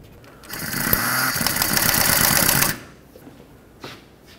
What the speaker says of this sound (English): Put this back onto the knuckle, start in the bolt.